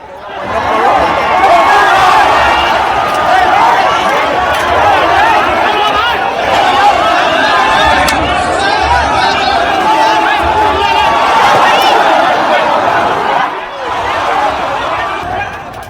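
A large, unruly crowd packs tightly around politician Asaduddin Owaisi as police move in, a dense roar of overlapping shouting and chatter that stays loud and close from start to finish.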